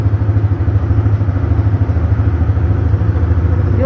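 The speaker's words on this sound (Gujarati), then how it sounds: "અવાજ આ રીતનો કંઈક આવે છે, બુલેટ જેવો." A new CNG-powered motorcycle engine runs steadily at close range, giving a deep, thumping low rumble like a Royal Enfield Bullet, continuous and even with no talking.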